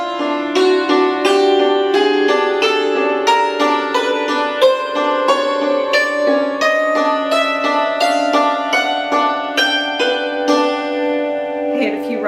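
A cello plays a chromatic scale from Bach's Cello Suite No. 1 Prelude, a steady stream of clearly bowed, closely miked notes that rises over about twelve seconds, with no talking.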